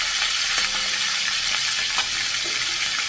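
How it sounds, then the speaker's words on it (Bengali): A large fish head frying in hot oil in a pan gives a loud, dense, steady hiss of sizzling, with a few faint clicks and scrapes underneath. "মাছের মাথাটা আমি ভেজে নিচ্ছি"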